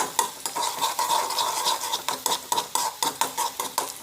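Chillies and curry leaves frying in a pan with onion, a bright close sizzle broken by rhythmic scraping and clinking of a spoon stirring against the metal pan, with no talking.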